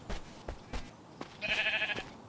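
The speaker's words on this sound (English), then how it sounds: "Oh, here's a sheep." A sheep bleats once in a survival video game, a short wavering call standing out after a few soft footstep-like thumps, fairly faint and with no talking.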